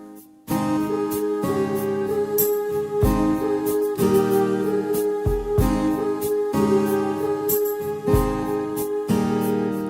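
Guitar strums a song, with quick, frequent chord changes in a steady, loud rhythm throughout and no talking.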